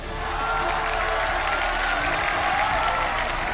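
Studio audience applause at a Chinese television singing competition welcoming a singer, a steady, loud wash of clapping from a large crowd that continues without a break.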